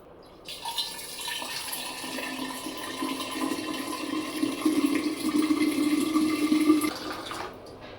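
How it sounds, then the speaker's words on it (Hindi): Cloths being rinsed under a running kitchen tap to wash out yogurt residue: steady gushing water, with splashing that grows louder and busier as the cloth is worked under the stream, then cuts off near the end. "तो बस इसको अब रनिंग वाटर के नीचे मैं अच्छे से धो लूँगी"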